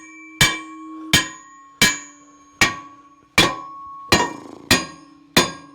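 Eight sharp metallic hammer blows ring out one at a time at a steady pace on a part of a Frick sawmill being repaired, each strike loud and close with a bright clanging ring that decays before the next.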